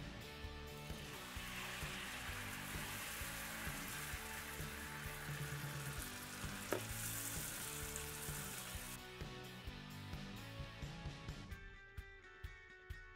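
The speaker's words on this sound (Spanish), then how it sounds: "Es momento de freír los frijoles en aceite caliente." Beans sizzling as they fry in hot oil in a home kitchen, a continuous crackling hiss with occasional pops, over background music that fades out near the end.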